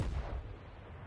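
Distant, muffled battleship gunfire in World of Warships, a low booming report that rolls and fades over about a second, fairly faint and alone.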